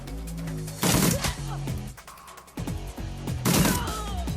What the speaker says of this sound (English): I'm gonna shoot him in the face